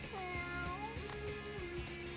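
A cat in the video game Mewgenics meows in a drawn-out, wavering cry with a few shorter calls, heard alone over a steady background tone.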